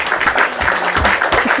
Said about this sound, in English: We're gonna throw some claps.